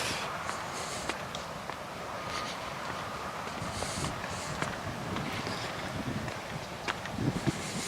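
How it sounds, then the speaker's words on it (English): Wind blows outdoors during a breezy, cool afternoon, a steady rushing noise with some buffeting against the microphone, continuous throughout with no talking. "Getting a little breezy, a little cool."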